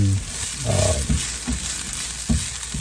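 Cauliflower sweats in olive oil in a pan for a cheesy keto casserole, a soft continuous sizzle with low thumps and scrapes of stirring scattered through.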